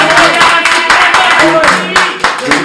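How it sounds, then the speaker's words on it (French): Loud, close applause from an audience at a press conference, a dense burst of hand claps with rhythmic surges, voices mixed in underneath. "Est-ce qu'on peut applaudir, s'il vous plaît?"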